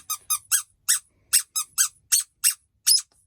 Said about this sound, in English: once you get a squeaky fish in water, the squeak vanishes. But to my amazement, it's come back